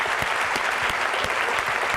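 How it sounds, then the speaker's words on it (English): A crowd applauds at the close of an entrepreneurship talk by Erin, dense, steady clapping filling the room for a couple of seconds, loud and close. "Let's give Erin a round of applause."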